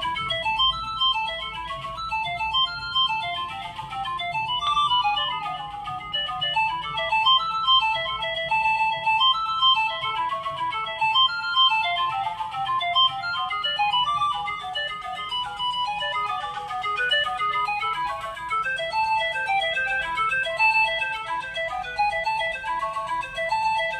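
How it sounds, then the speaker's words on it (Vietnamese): A Vertu Ascent Ti Ferrari special edition phone plays a bright, melodic ringtone that runs steadily for the whole stretch, with layered chiming notes and no voices over it. "Chuông của chiếc máy này nó kêu rõ như thế nào."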